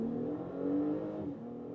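Audi Q5 Sportback in dynamic mode pulls hard from about 40 to 80 km/h, its engine a steady close-up drone that climbs in pitch with a brief shift midway, heard from inside the cabin with no talking.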